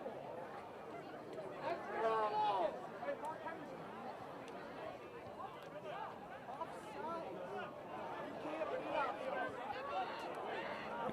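A soccer crowd at a Marian versus Taylor match murmurs and chatters in a broad, distant babble after a disallowed goal, with swells of excited voices rising and falling throughout.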